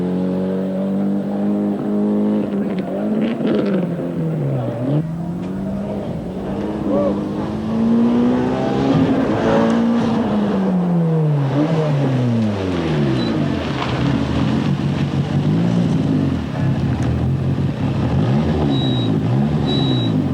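Proton Saga 4WD turbo Group S rally cars race on a public road, engines roaring loud and close with rising and falling revs as cars accelerate and pass by continuously, with a commentator talking over them.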